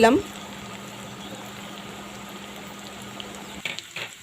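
Beef tripe curry simmering in a pot after garam masala goes in, a steady soft bubbling hiss that runs evenly, then a few brief utensil clinks and scrapes near the end.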